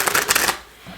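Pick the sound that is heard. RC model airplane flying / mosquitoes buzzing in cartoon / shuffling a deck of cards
shuffling a deck of cards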